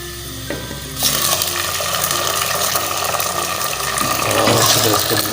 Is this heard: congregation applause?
no